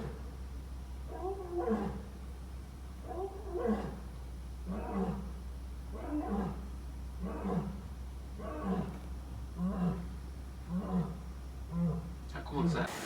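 A lion roars in a steady series of deep, regularly spaced grunting calls, about seven bursts roughly a second or so apart, moderately loud over a constant low hum.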